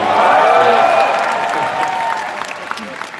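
A large convention crowd at a Star Wars Celebration panel on The Clone Wars bursts into loud, sustained applause and cheering that fills the hall, gradually easing off over a few seconds.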